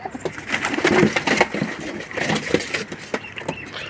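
Pakistani mohar pigeons for sale, cooing in low repeated phrases amid a busy, noisy setting with traffic or engine sound in the background and some brief talk.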